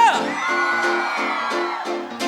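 A crowd of young people at a live big band festival concert shouts and whoops in loud, close bursts, with a voice rising over a pulsing musical backing.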